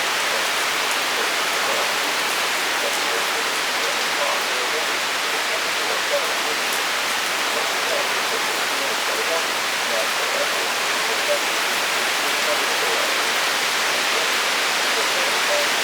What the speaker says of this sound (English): Is this a big downburst or is this a downburst or a downpour? It's probably both.